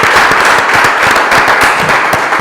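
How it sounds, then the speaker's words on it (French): An audience claps for a contestant at a song game show in Lubumbashi, a steady burst of dense applause filling the whole stretch with sharp hand-clap transients, close and loud. "on peut l'applaudir"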